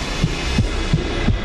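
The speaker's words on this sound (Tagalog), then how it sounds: "Yan yung heartbeat ko." A game's truth-verifier device plays a heartbeat effect: four evenly spaced, low double thumps in a steady lub-dub rhythm over a faint hiss.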